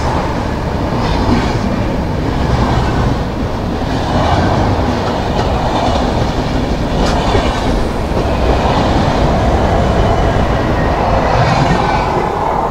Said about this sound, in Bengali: ওই যে বেরিয়ে যাচ্ছে স্বর্ণ জয়ন্তী এক্সপ্রেস।